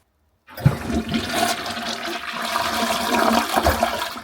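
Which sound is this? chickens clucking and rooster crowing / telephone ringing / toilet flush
toilet flush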